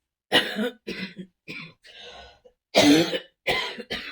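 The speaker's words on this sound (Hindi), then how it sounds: "मुझे तो अभी बहुत खांसी है" Several harsh coughs in a row, close and clear, separated by short pauses, with a raspy throat-clearing sound in the middle.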